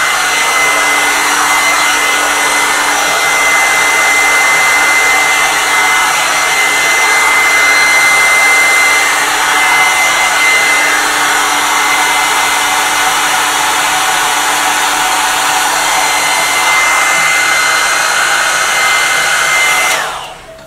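A hot-air volumizing brush blow-drying hair gives off a loud, steady motorized whir with a rushing airflow hiss that holds evenly for about twenty seconds before cutting off abruptly at the end.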